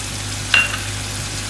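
Meat frying over a high flame in a pot with dry spices and yogurt, giving a steady, close sizzle and bubbling hiss with a faint stir partway through.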